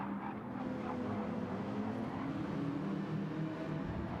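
Race cars, including a BMW, lap Trial Mountain in an endurance sim racing game, a steady engine drone with rising and falling revs held at an even level throughout, no talk.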